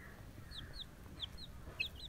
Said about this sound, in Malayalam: ഇതൊരു നല്ലൊരു മുട്ടക്കോഴിയാണ്.